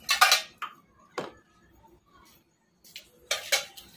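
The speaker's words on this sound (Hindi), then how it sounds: "तो गाइस सारे बर्तन धोएंगे" Dishes, pots and pans are washed by hand, with sharp clanks and clinks of metal utensils and cookware in separate bursts with quiet gaps between them, close by.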